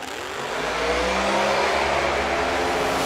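A turbocharged drag race car launching down a quarter-mile strip at a drag racing event, a loud engine roar rising and holding steady as it pulls away with a whirring tone, heard from trackside.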